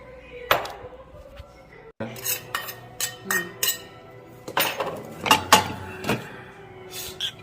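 A metal spoon mixes barley bibimbap in a bowl, producing a quick series of irregular clinks and scrapes against the dish, close up, with soft talk in between.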